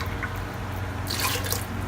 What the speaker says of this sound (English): I'm going to add about roughly 4 cups of water